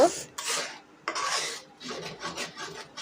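Dry scraping and rasping of a spoon stirring cumin, black cumin and salt in a pan, coming in several rough bursts with short gaps, close and fairly quiet, with no talking.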